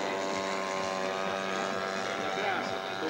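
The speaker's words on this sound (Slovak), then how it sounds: "lietadlo, ktoré vidíte letieť, nie je skutočným lietadlom, ale je maketou 3-krát zmenšenou oproti skutočnosti" A one-third scale model of an M2 Scout aircraft with a 40 cc engine in flight, a steady droning propeller whine that holds level over someone speaking throughout.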